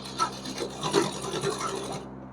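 A sewing machine stitching fabric for a small Laddu Gopal dhoti dress, a continuous close rasping whir with a faint rhythmic mechanical texture that cuts off near the end.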